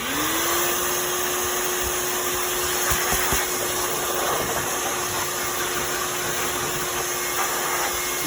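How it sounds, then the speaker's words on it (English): A vacuum cleaner running in reverse blows air through a K&N motorcycle air filter, a loud, steady motor whine with a rushing airflow hiss, starting up at the beginning and holding a constant pitch throughout. "I get my vacuum cleaner out, reverse the flow."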